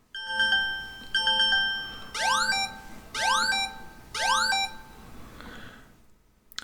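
An alarm tone sounds alone: first two sets of short repeated electronic beeps, then three rising swept tones, each about half a second long with a brief gap between them, clear and close before fading out.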